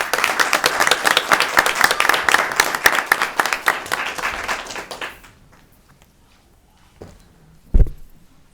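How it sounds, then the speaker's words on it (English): An audience at a school committee meeting applauds outstanding students, brisk clapping for about five seconds that fades out, followed by near silence and a couple of isolated thumps. "how about a round of applause for these outstanding students?"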